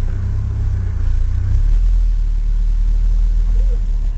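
A manual stick-shift car pulls away slowly in a parking lot as the driver works gas and clutch, a loud low engine rumble that deepens and steadies partway through, with no talk.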